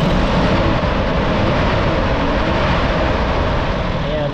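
A Toyota 5K engine revving up from a steady idle near 750 rpm, a loud, close, continuous mechanical roar that holds steady throughout.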